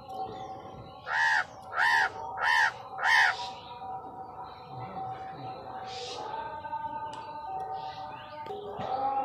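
Crows cawing outdoors, four loud harsh caws in an even rhythm close by, followed by fainter calls and soft bird chirps under a low hum.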